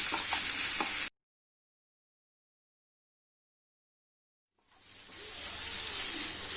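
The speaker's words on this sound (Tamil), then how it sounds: "கொஞ்சம் ப்ரௌன் கலர் சேஞ்ச் ஆகிற வரைக்கும் இதை நல்லா வதக்கி விடணும்." Sliced onions with salt sautéing in a pan give a close, bright hiss that cuts out abruptly after a second, leaving several seconds of silence before the sizzle slowly swells back.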